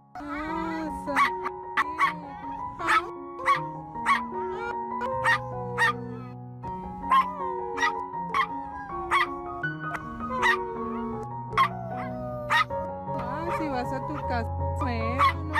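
A dog whimpers and gives short yips and barks in a repeated, rhythmic pattern, close and fairly soft. Soft background music runs underneath.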